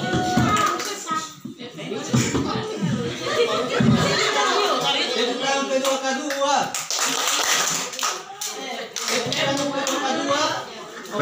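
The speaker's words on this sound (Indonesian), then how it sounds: "Tepuk tangan kedua." An audience at a community social-assistance meeting claps in bursts and patterned rhythms, mixed with chatter, children's voices and laughter throughout.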